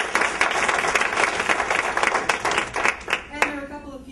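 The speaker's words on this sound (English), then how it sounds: "And we're going to have a round of applause for them." An audience at a presentation of winning videos gives a round of applause, a dense burst of close clapping that thins out and fades after about three seconds while a voice speaks over it.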